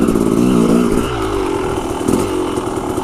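A dirt bike motorcycle rides the trails at Hollister Hills, its engine loud and close, revving hard at first and then settling into a rough, throbbing drone.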